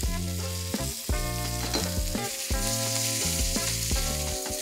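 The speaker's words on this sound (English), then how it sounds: "I'll throw in some mustard seeds, some cumin seeds, some asafoetida or hing, chopped green chilies." Mustard seeds, cumin, hing, green chilies and curry leaves frying in hot oil, a steady sizzle under continuous background music that dominates throughout.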